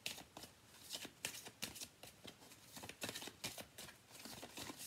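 Tarot cards being shuffled by hand, repeated soft riffling bursts in a steady rhythm, close but quiet and heard alone.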